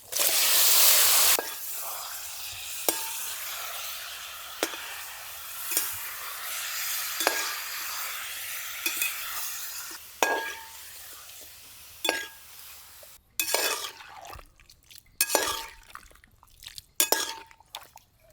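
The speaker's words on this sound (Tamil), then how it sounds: "சிக்கனை நல்லா வதக்கி விட்டாச்சுங்க." Chicken sautéing with onion and tomato in a pan for village-style chicken curry, a spatula clinking and scraping against the pan in irregular strokes over a low sizzle, louder and choppier near the end.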